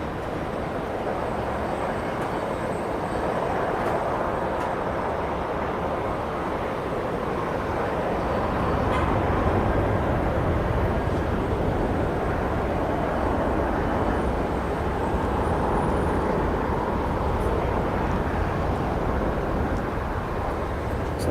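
A Toll Boeing 737-400 freighter rumbles at an airport, a long steady broadband roar that swells slightly midway and holds at a moderate distance.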